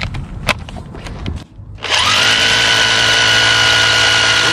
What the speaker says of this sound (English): After we drill the holes